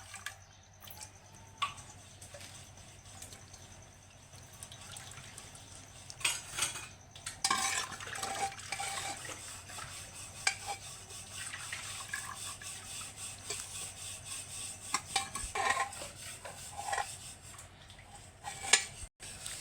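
A spoon scraping and clinking around a bowl while boiled bottle gourd is stirred into curd, irregular taps and swishes close up, quiet at first then busier.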